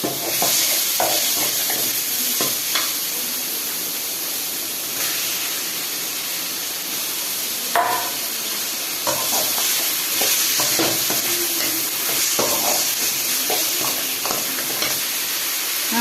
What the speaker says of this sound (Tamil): சிக்கன் ஆட் பண்ணி சிக்கன் போட்டு நல்லா வதக்கலாம்